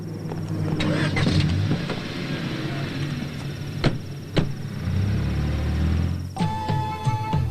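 A car engine rumbles and pulls away nearby, with sharp knocks and clatters over the motor noise and a brief mechanical rattle near the end.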